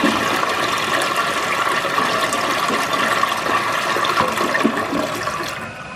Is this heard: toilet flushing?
yes